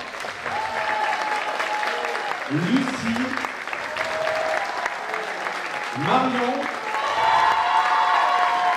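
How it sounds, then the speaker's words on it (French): A pageant audience at the Reine de la Dentelle 2025 applauds contestants, steady clapping running throughout while a presenter's voice speaks over it, swelling a little toward the end. "Donc pour Léna, un maximum d'applaudissements."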